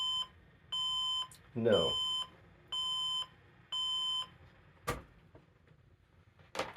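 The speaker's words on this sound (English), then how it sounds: "I believe 5 beeps is memory related." PC motherboard POST error beeps signalling a memory fault, heard as five steady, even electronic tones in a regular on-off pattern, with brief noises and movement between them.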